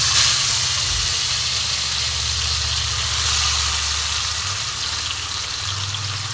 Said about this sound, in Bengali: কড়াই আমি তেল দিয়েছি, তেল আমার খুব গরম হয়ে গেছে। এবার আমি মাছগুলো ভেজে নেব।